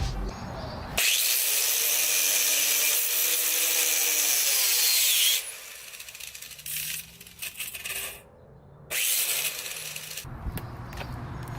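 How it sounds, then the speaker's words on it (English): A flathead screwdriver pries and scrapes at a plastic trim piece during an Acura RSX Type-S mirror install, giving loud, harsh grinding and rubbing that stops and restarts in several bursts. "will actually snap off if you take a flathead and pry it out"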